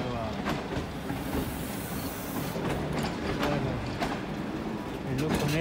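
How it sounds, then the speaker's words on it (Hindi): A passenger train passing through Havelian railway station in Pakistan, a steady broad rumble with hiss and faint rhythmic clatter of wagons, continuous and fairly close. "ये जा रही है जी ट्रेन"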